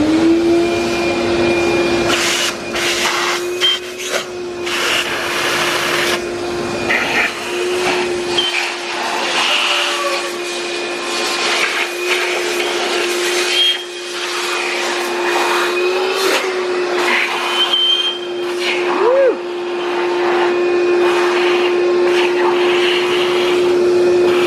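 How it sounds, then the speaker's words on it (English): A vacuum runs with a steady, loud whine while sucking plastic debris out of an engine's intake ports, its pitch wavering slightly as the nozzle moves, with people talking over it. "she's gonna go ahead and vacuum that stuff out"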